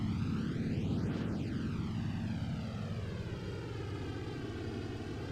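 A warplane engine in a video game drones steadily as the aircraft passes close by, with a pronounced sweeping Doppler shift near the middle of the pass, loud and unbroken throughout.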